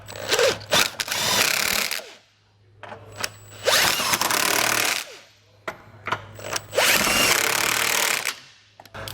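A power tool tightens the bolts on an etrailer trailer hitch receiver fitted to a 2022 Acura MDX. It sounds in three loud, close bursts of whirring and rattling, each a second or two long, with short pauses between them.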